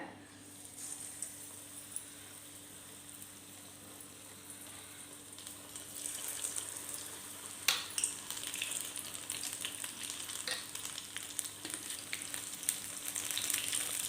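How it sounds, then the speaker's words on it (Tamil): Cauliflower bajji frying in hot oil gives a steady, moderately loud sizzle with crackling bursts that grow busier toward the end, with no talking. "எண்ணெய் சூடாகிடுது இப்போ காலிஃப்ளவரை போட்டுக்கிறேன்"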